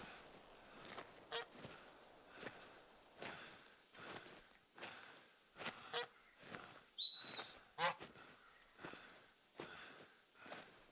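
Geese honk faintly in a video game, a string of short, rough calls repeated at irregular intervals across an open hillside, with soft footsteps and a quiet ambient bed.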